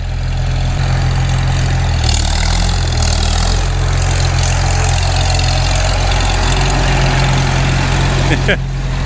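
A motorbike engine rumbles loudly and steadily up close as the rider takes off, with a slight rise in pitch partway through and a voice talking over it.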